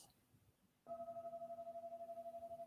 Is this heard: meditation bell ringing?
yes